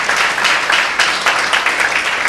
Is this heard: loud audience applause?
yes